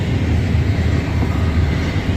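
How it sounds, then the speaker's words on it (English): A Union Pacific freight train rolls past at speed, making a loud, steady, close rumble that fills the whole moment without any break. "This train's got to be going at least 30 miles an hour."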